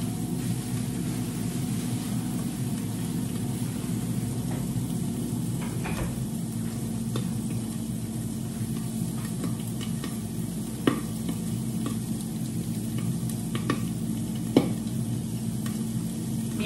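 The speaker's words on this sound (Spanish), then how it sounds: "ya el zaril comenzó a hervir" Saril (hibiscus) simmering for chicha, giving a long, steady hiss and low bubbling rumble, with a few faint clicks and light knocks scattered throughout.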